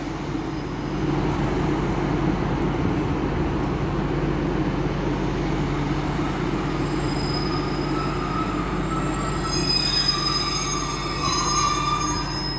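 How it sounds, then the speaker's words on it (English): A pair of Northern Class 150 diesel units departing Manchester Victoria station on a service to Clitheroe, with a loud steady engine rumble and rolling rail noise, and wheel squeals rising in the later seconds. "So now departing is 150-104 and 105 with the on time 14:43 northern service all the way to Clitheroe."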